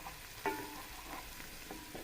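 Turmeric stirred into a frying onion mixture in a pan, a faint soft sizzle with a few brief stirring scrapes, quiet and close.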